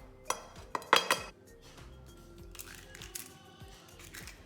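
Butter and sugar being whisked in a bowl while making chocolate cookies, with sharp metallic clinks and scrapes against the bowl in quick bursts, then softer, irregular stirring and tapping nearby.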